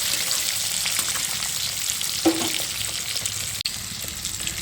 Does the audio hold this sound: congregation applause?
no